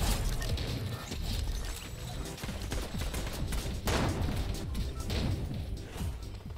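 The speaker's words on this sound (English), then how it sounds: "I just double headshot this dude because they kept going in a straight line the second I pulled out a DMR" Rapid gunfire from a DMR in Fortnite, dense cracking shots layered over busy game action, loud and continuous with a sharper burst near the middle.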